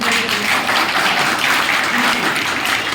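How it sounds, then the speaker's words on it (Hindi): An audience at a business meeting applauds loudly and continuously, a dense wash of clapping with faint voices mixed in. "मैं एक बार जबरदस्त तालियां चाहता हूँ अपने गुरु माननीय श्री सचिन"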